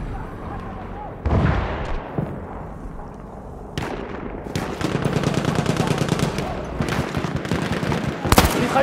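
Machine guns and rifles rattle in rapid bursts amid sharp blasts and explosions during a Battlefield 1 multiplayer battle, with loud chaotic gunfire building toward the end.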